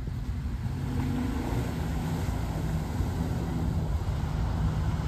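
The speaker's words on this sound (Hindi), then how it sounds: "साउंड अच्छा है गाड़ी का यार।" A Tata Safari 4x4 works off-road, its engine revving in a dense, steady roar with broad noise, moderately distant and with no one speaking.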